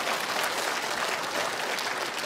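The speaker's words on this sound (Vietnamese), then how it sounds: "các khán giả nam giới thấm ý là cái câu đấy nên vỗ tay hơi to" A comedy talk show audience claps loudly and steadily, dense continuous applause filling the space without pause.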